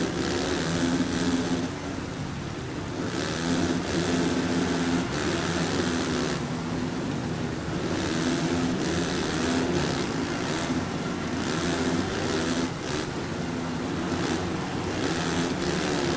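A 450 motocross bike engine drones steadily on a slippery wet track in the MXGP 3 game, rising and falling with throttle over a constant mid-level roar.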